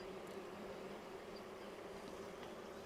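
Honey bees on a hive frame hum in a steady, faint drone with no pauses and no voices.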